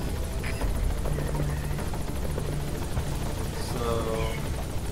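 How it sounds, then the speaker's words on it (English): Support helicopter arriving in Metal Gear Solid V: The Phantom Pain, a steady rotor thrum and engine whine held at even loudness throughout, with game radio chatter and effects mixed in. "Support helicopter has arrived."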